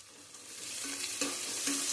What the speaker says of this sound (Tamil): வெங்காயம் பாருங்கள் இந்த அளவுக்கு வந்து வதங்கிருச்சு இப்போ நம்ம வந்து இதில் வந்து கருவேப்பிலை சேர்த்துடலாம்